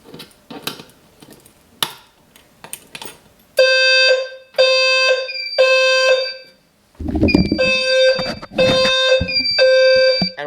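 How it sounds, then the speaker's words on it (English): A Simplex fire alarm system sounding its evacuation signal, a loud electronic horn tone in repeated bursts of about a second with short gaps, preceded by softer handling clatter and clicks before the alarm starts. "We're going to put it into alarm."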